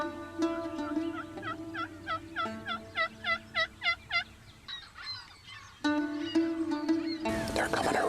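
Wild toms fanning out about 150 yards off let loose a string of rhythmic gobbling bursts in the open field, with louder calls and rustling nearby.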